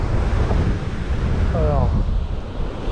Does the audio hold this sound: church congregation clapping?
no